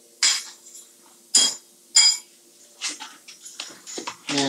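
Steel hammer striking a chisel held at an angle to scrape old thin set off a ceramic tile floor, a series of sharp metallic clinks, three loud spaced blows followed by quicker, lighter taps close by.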